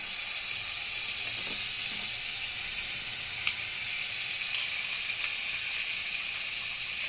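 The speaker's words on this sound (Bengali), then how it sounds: "আমার কড়াই গরম হয়ে গেছে, তো এখন আমি কড়াইতে একটু বাটার দিব" Butter sizzling in a hot kadai gives a bright, steady hiss that stays even throughout, close and fairly loud, with a few faint ticks and no speech.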